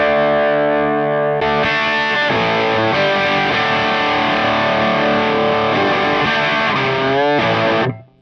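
An electric guitar plays through a BuzzTone Megaplex Stage 3 amp. Chords are distorted, sustained and loud with effects, starting alone, shifting in a few places and cutting off abruptly at the end.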